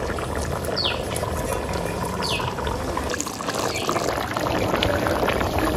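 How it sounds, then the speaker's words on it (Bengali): Pieces of fried tilapia go into a simmering red curry with taro, giving a steady close bubbling and sizzling wash with a few faint higher clinks, no voices. "এবার ভাজা মাছগুলো দিয়ে দেবো।"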